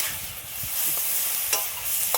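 Ginger garlic paste sizzles and sautés in a pan for village-style chicken fry, with a steady frying hiss and a few scraping spatula stirs that stand out clearly.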